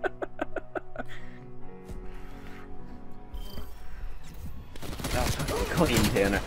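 Rapid gunfire in a video game: soft tones and faint clicks come first, then a loud, dense stream of quick shots takes over for the last couple of seconds, close and continuous.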